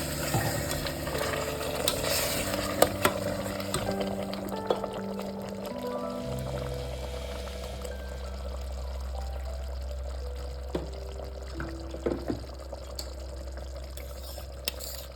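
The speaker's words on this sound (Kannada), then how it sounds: "ಮಿಕ್ಸಿಲಿ ಇನ್ನೂ ಸ್ವಲ್ಪ ಪೇಸ್ಟ್ ಎಲ್ಲ ಇತ್ತು, ಸೊ ಅದಕ್ಕೆ 1 ಗ್ಲಾಸ್ ಬಿಸಿನೀರು ಹಾಕಿದ್ದೀನಿ." Hot water is poured into a mixer grinder jar to rinse out leftover paste while cooking chicken donne biryani, making a steady, close liquid pour with a low rushing fill and occasional clinks of the jar.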